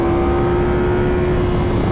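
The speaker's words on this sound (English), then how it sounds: "I'm hearing all sorts of melodies from the Akrapovic" A modified Ducati Panigale V4 R with an Akrapovic exhaust at a car show holds a loud, steady, close engine drone with a sustained tone and no clear rise or fall.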